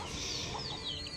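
Brief, soft, muffled clucking from a brooding hen, low and close, lasting about a second under faint background noise.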